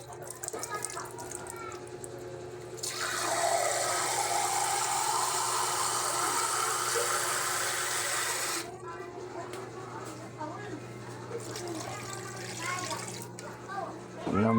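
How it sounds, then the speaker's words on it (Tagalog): Water runs from a tank into a cooking pot for several seconds, a steady loud rushing hiss, with a person talking before and after the pour. "lalagyan natin ng tubig"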